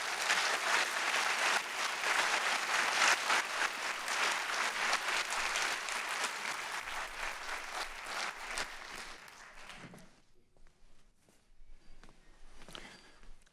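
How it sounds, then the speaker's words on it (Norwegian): A full hall audience gives sustained applause for an honoree at a Norwegian event on municipal health services and GPs, dense and steady for about ten seconds before thinning to a few scattered claps. "Så jeg synes at vi skal gi Øystein en solid applaus på vegne"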